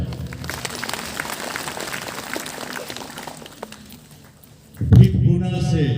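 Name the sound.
audience applause at a ceremony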